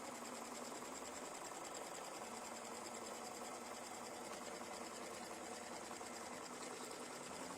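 A sewing machine stitches the background quilting on a pumpkin-themed mug rug, its motor running in a steady, unbroken rapid whir close by for the whole stretch.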